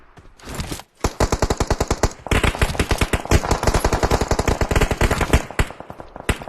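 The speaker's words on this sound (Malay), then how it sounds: "Tembakan yang akan cuba dilepaskan." Sustained loud automatic gunfire from a battle royale video game match, rapid bursts firing near, pausing briefly before resuming in long rattling volleys, with no talk over it.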